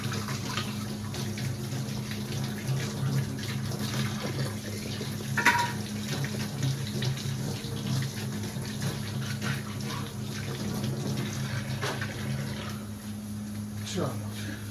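Tap water runs steadily into a kitchen sink while something small is scrubbed and rinsed, a continuous close wash with faint clinks over a low hum.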